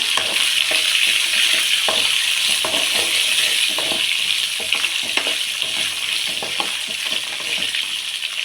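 Two big onions, sliced lengthwise, sautéing in a pan for a chutney, giving a loud, steady sizzle with frequent small scraping taps from stirring, with no voices.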